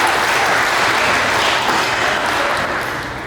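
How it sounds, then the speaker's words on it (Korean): Steady, dense applause from wedding guests at a ceremony hall, filling the whole stretch at a loud level and tapering slightly toward the end, with no voices over it. "박수로 부탁드리겠습니다"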